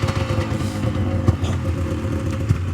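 A Yamaha Vmax 700 triple snowmobile engine runs with the choke on, a close, steady idle with an uneven, lumpy pulsing rumble and occasional louder catches, alone without talk.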